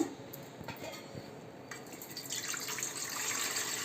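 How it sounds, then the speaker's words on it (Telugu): Water is poured into a pot on the stove to set up steaming for homemade cow's-milk junnu: a steady, close splashing and trickling that grows fuller and brighter toward the end, with no talk. "ఇలా వాటర్ పోసుకోవాలండి"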